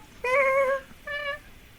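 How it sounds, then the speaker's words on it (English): A house cat gives two clear, close meows, the first longer and louder, the second shorter, against a quiet indoor background. "The rest of this episode is gonna go until you hear Callie meow."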